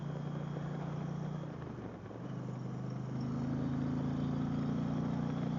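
A 2024 Indian Pursuit motorcycle engine drones steadily under heavy acceleration at moderate distance, dipping briefly before the note climbs and holds again.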